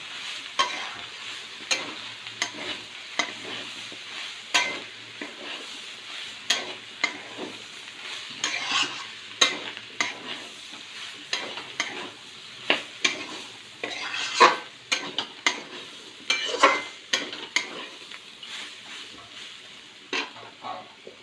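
Garam masala powder fries in a pan, giving a soft continuous sizzle under repeated spoon scrapes and light clinks against the metal pan. The stirring comes in irregular bursts, close by, with no voices.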